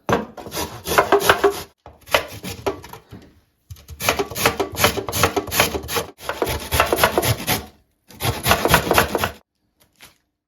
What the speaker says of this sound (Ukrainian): Беремо одну середню морквину і натираємо на дрібненьку терку.